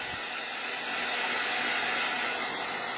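A heat tool blows a steady, loud stream of hot air to dry a paper craft piece, a continuous close whooshing hiss with no talking.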